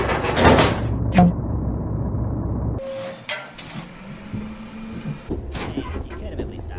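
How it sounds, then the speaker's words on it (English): A door in the Henry Stickmin video game slides or swings open with a mechanical whoosh and clunks, set against rumbling station background noise and game voices. "I'll get the door."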